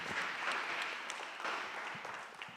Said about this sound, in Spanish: A round of applause is allowed.